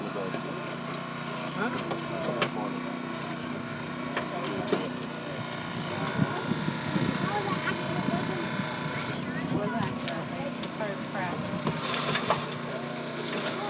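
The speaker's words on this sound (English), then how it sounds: "So you'll hear some of the glass breaking." Scattered crunching and sharp cracks as firefighters break car window glass with tools in the middle of a street, mixed with street noise and people talking nearby.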